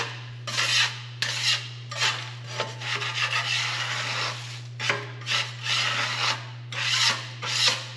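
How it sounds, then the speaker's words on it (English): Small hand scraper scraping residue off a part during service on an ASV RT-60 track loader, a series of short rasping strokes in an uneven rhythm, close and fairly quiet over a steady low hum. "I usually grab my scraper and clean this off."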